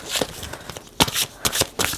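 Large tarot cards being shuffled by hand, a series of papery riffling bursts and soft flaps in an uneven rhythm, close and clear with no talk.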